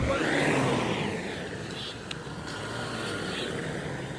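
A BMW 530d sedan's diesel engine revs up strongly, then settles back to a steady, smooth run, fairly loud and close throughout.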